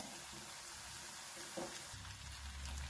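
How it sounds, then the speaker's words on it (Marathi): Mini samosas deep-fry in hot oil with a soft, continuous bubbling sizzle. A faint stir or clink comes midway, and the sound stays low and steady without speech. "चांगला याला कलर येऊपर्यंत तळायचा आहे."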